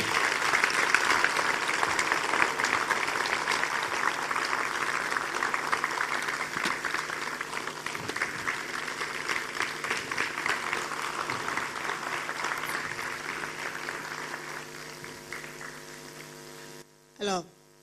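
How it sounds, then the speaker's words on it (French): Sustained audience applause at a talk event welcoming a guest doctor, steady dense clapping for about fifteen seconds over a low mains hum, then fading out before a brief closing sound. "je vous invite à applaudir notre premier invité, Dr Moïse Fiadjo"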